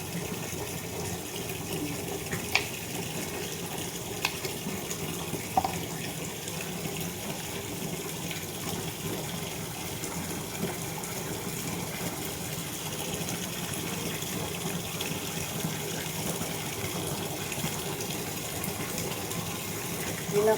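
Steady broadband rush of water running from a tap, continuous and fairly close, with a faint mechanical hum and a few small clicks throughout.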